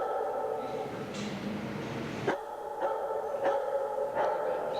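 Puppies in a dog adoption area bark in short, repeated yips and bow-wows, several sharp barks spaced apart over a steady indoor hum, fairly close and moderately loud.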